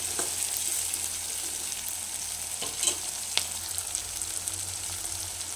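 Tomatoes and onions sizzle steadily in a pan for a chicken curry, a continuous close frying hiss with occasional soft stirring clicks and no voices.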